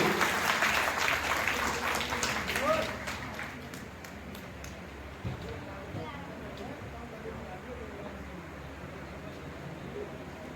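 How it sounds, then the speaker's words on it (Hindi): An audience at a Holi celebration of the Vaishnav Brahmin community of Mathura-Vrindavan claps loudly for a few seconds. The applause then fades away into a quiet room with a faint low rumble. "ताली तो आप लोगों की होनी चाहिए मेरे हिसाब से, जोरदार ताली"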